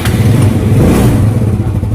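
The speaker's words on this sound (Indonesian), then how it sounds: "Hidup motornya." Yamaha Mio Sporty scooter engine running loud and close, a steady low idle with slight revving and mechanical clatter, no voices.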